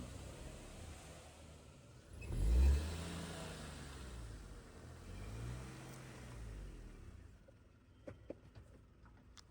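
A car turning around on a hillside road in Shimla, India, its engine swelling briefly into a low rev before settling into a steady mid-pitched hum that fades, with faint clicks near the end.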